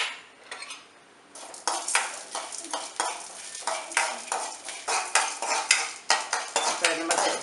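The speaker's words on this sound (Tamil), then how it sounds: "அதில் நம்ம 1 டீஸ்பூன் எண்ணெய் விட்டுக்கலாம். கடலைப்பருப்பு, உளுந்தம்பருப்பு நம்ம வறுத்து எடுத்துக்கலாம்" Chana dal and urad dal roast in a teaspoon of oil in a kadai for onion chutney. A spoon scrapes and stirs in a steady rhythm of close, clattering strokes over a light sizzle.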